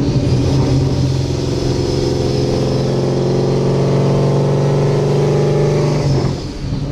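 A loud, close S197 Mustang fitted with a Paxton 2200SL supercharger revs hard, its engine roar and rising supercharger whine sustained for several seconds before dropping away.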